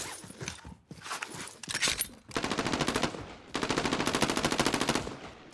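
Rapid bursts of machine gun fire rattle in long, steady volleys, with short pauses between, loud and close, with no talking, in the video game Call of Duty: Warzone.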